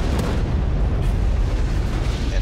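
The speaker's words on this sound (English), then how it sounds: "He does a test shot" The USS New York, a tier 5 battleship in World of Warships, fires a test shot: loud, deep rolling naval gun thunder with a dense rumbling low end, a sharp crack at the start and another soon after, sustained throughout.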